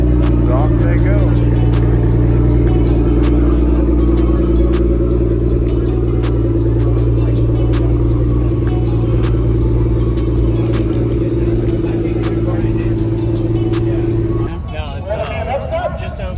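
Drag-style race cars at a launch, with loud deep engine rumble holding steady before fading abruptly, clattering and crowd chatter mixed in, and a voice speaking over the noise.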